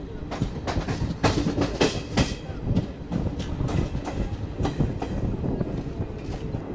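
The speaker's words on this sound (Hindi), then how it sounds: "अब ये कौन सी ट्रेन क्रॉस हो रही है" Train rolling past on a railway line in India, a steady loud rumble with repeated clickety-clack wheel beats over rail joints throughout, close by and continuous.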